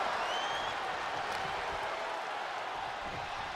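Virtual arena crowd in WWE 2K24 cheering and applauding, a steady, moderately loud wash of clapping and voices from a distance with no pause.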